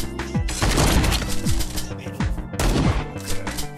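Rapid bursts of gunfire from the Priest Simulator video game, dense overlapping shots and volleys in quick succession, loud and close throughout with a brief lull midway.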